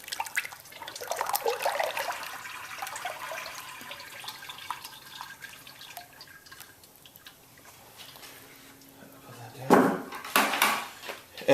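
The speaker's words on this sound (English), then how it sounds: "Here's my glaze we just mixed, and so I will fill up the sieve." Liquid pottery glaze is poured into a sieve, giving soft trickling and splashing that swells briefly at the start, then a sharper burst of pouring and clatter near the end.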